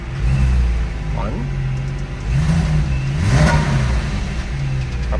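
A car engine revs up and settles a few times, a steady mid-pitched drone rising and falling through an exhaust with a flapper valve, with a voice speaking briefly over it.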